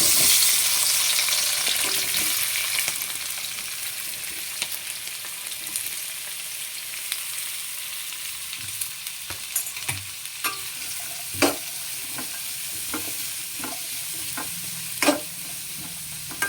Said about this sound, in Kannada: ಈರುಳ್ಳಿ ಸ್ವಲ್ಪ ಗೋಲ್ಡನ್ ಬ್ರೌನ್ ಕಲರ್ ಬರೋ ತನಕ ಫ್ರೈ ಮಾಡ್ಕೊಳ್ಳೋಣ